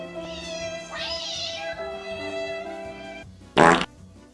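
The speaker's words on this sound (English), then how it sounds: "Do you hear this pathetic meowing?" A sad cat lets out a drawn-out, pitiful meow partway through, over steady background hum, followed near the end by a short, loud noisy burst.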